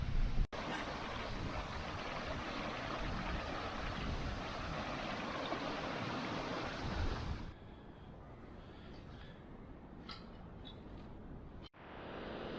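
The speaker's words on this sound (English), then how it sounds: "I'm going to get my water source from this little waterfall" Steady rushing water from a small waterfall fills the first half, then drops to a quieter trickle with faint wind and a few light knocks.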